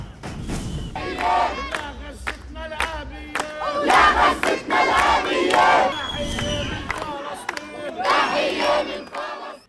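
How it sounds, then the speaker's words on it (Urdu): A protest crowd in Toronto rallying for Palestine's freedom chants slogans in loud, rhythmic bursts, many voices shouting together in repeated waves with brief pauses between calls. "کینیڈا کے شہر ٹورنٹو میں فلسطین کے آزادی کے نعرے لگائے گئے۔"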